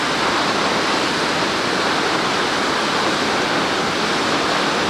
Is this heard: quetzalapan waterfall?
yes